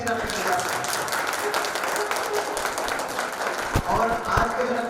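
Audience clapping at a Jain temple dance drama, dense and sustained for the whole stretch with a few louder bursts near the end, voices mingling in the crowd.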